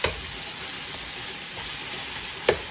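Seasoned ground meat for spaghetti browns in a hot pan with a loud, steady sizzle and hiss, broken by a couple of sharp stirring scrapes.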